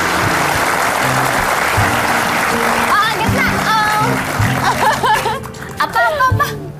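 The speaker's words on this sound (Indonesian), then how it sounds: "Kita dulu, tepuk tangan dulu buat Gaisa." A studio audience on an Indonesian talk show breaks into loud, sustained applause that fades as cheers, whoops and laughter rise, with voices calling out over the clapping.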